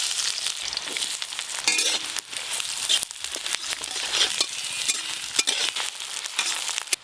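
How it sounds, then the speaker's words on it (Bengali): Chopped onions sizzle steadily in hot oil with whole garam masala spices, bay leaves and dried red chillies, a close, continuous frying crackle with occasional stirring scrapes and no speech. "পেঁয়াজ কুচিগুলো হালকা করে ভাজা ভাজা হয়ে গেছে।"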